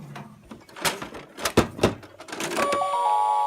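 A Star Tours Starspeeder 1000 toy has its doors opened, giving a few plastic clicks and thunks, then an electronic boarding sound effect sets in as a sustained steady tone.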